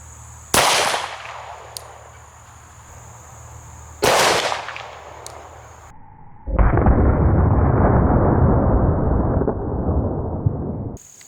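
Two sharp 10mm gunshots, 180 grain hollow point rounds fired into clay blocks, crack loudly a few seconds apart, each with a short decay. A sustained broadband rushing noise follows them.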